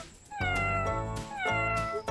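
A cat meows twice, long drawn-out cries with a short pause between them, close and fairly loud with no talking.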